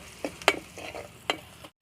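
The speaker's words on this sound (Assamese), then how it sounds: "সকলোখিনি অকণমান লৰাই পিঁয়াজখিনি ৰঙচুৱা হোৱাকৈ মই ভাজি লৈছোঁ।" Sliced onions with turmeric frying in a pan and stirred until reddish, heard as a few sharp spoon scrapes and clatters over a soft, close sizzle that cuts off abruptly at the end.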